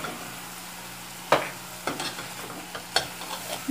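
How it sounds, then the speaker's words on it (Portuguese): A spoon stirs dried salted beef with pumpkin in a hot pan, making soft scraping strokes over a low, steady sizzle with several distinct clacks against the pan, close and fairly quiet. "dar uma mexidinha"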